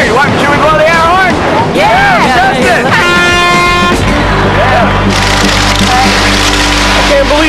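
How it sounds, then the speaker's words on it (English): A single air horn blast sounds for about a second, a loud steady tone surrounded by excited voices and wind buffeting the microphone. "should we blow the air horn?"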